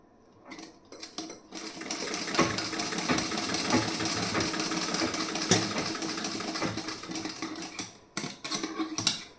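A sewing machine stitches a piece of blouse fabric, running in a continuous rapid mechanical whir for several seconds, framed by short stop-start bursts at the beginning and end.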